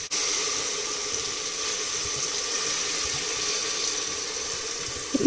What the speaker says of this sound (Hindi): इसमें हम पानी डालेंगे ग्रेवी के लिए।